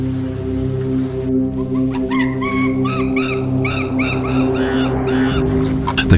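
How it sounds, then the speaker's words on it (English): Loud, overlapping honking cries rise and fall over a steady low drone, a large flock of thousands of birds calling together during the Serengeti migration. "chaotic cries of thousands of birds could not hide the rising tension."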